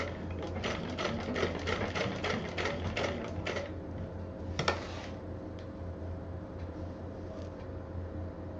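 A sewing machine stitching piping onto a stylish purse runs in a fast rattling burst for about four seconds, then stops, leaving quiet room tone with a single click.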